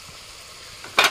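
Ground turmeric, cumin, coriander and Kashmiri chili powder hit hot oil in a pan, with near-silence giving way to a sudden, brief burst of loud sizzling at the end.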